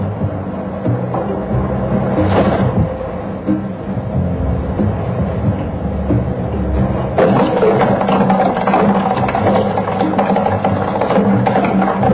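Hot water runs from a water dispenser in a steady, loud, close pour lasting several seconds, its tone shifting slightly as the container fills.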